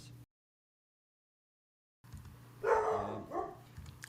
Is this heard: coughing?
no